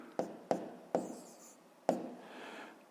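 A pen or chalk marking numerals by hand: four sharp separate taps and strokes with short scratchy tails, close and quiet, no talking.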